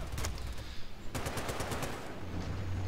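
A tank's mounted heavy machine gun in Battlefield Bad Company 2 fires sustained rapid bursts, loud and close, with a brief gap before the chattering resumes.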